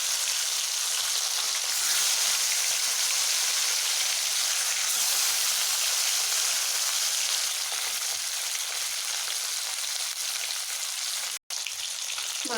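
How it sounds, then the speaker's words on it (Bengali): Parshe fish coated with salt and turmeric fry in hot oil in a kadai, a loud, even, continuous sizzle heard close up with no talking. "কড়াইতে আমার তেল গরম হয়ে গেছে এই মাছগুলোকে নুন হলুদ মাখানো মাছগুলোকে আমি ভেজে নেব"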